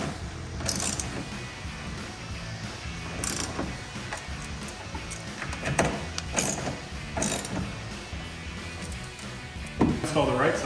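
A ratchet clicks in short bursts while screws are tightened into the plastic tail light housing of a 2018-2020 Ford F-150, with several separate sharp ratcheting runs spaced across the clip.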